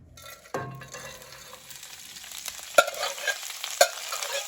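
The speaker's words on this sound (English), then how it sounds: "I'm gonna get some onions and peppers in the pan first." Onions and peppers frying in a pan: a soft, steady sizzle that starts with a sharp crackle as the vegetables go into the pan, with a few clicks from stirring or handling.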